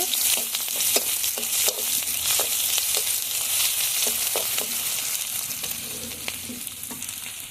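Chopped onion and garlic frying in a pan for a pigeon meat curry, a steady loud sizzle with intermittent sharp scraping stirs of a spatula.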